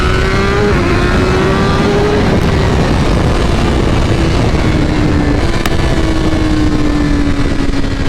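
A loud, continuous BMW S1000RR sport motorcycle engine with ECU tuning, droning at high revs, its pitch shifting slightly as it holds speed.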